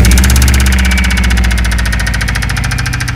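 A failing Subaru Impreza engine running and making an abnormal noise: a loud, close, steady idle with a rapid regular knocking or ticking rhythm throughout, alone with no talk.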